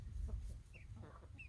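Soft chicken clucks and short calls come and go over a low rumbling background on a homestead, a few birds a little way off.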